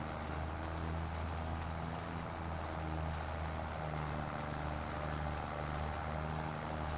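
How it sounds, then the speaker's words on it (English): A Minneapolis tractor in Farming Simulator hauls a chisel plow up a hill, its engine giving a steady, loud low drone with constant harmonics that runs through the whole stretch with no talking. "This is probably a pretty good pull for this tractor here with this particular chisel plow."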